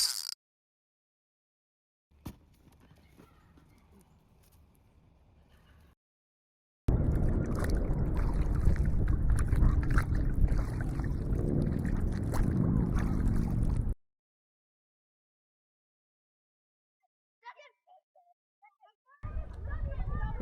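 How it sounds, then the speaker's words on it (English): A named kayak is paddled on Vermont water, giving a splashy, gurgling wash that swells loud for several seconds, with fainter watery movement before and brief splashes near the end, plus quiet stretches between. "We've launched the kayak that we've lovingly named Suck My Wake."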